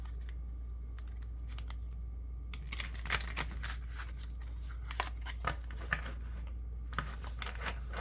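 Tarot cards are shuffled with soft, irregular riffles and flicks, faint and close over a low steady hum, with a few sharper snaps toward the end.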